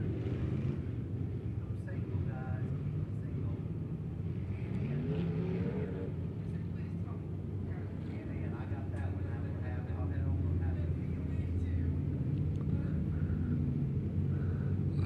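Race cars roar around Midway Speedway's oval during the Gary Woodall Memorial race, a steady, loud engine rumble with a commentator talking over it throughout.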